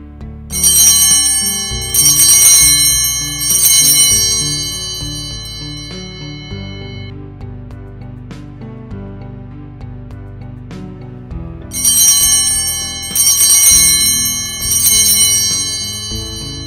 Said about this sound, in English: The bell should be rung loudly and strongly, three distinct times, once for each member of the Trinity.